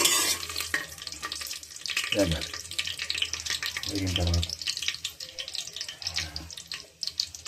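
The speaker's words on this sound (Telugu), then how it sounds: "ఇది కొంచెం వేగాలి" Nutmeg frying in a pan for tomato, potato and carrot rice, a steady close sizzle with stirring scrapes and a few louder bursts, under occasional faint talk.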